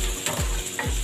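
Whole garlic cloves sizzle loudly in a pan for chicken adobo, with a couple of quick scraping stirs that sweep through the crackle. No one speaks.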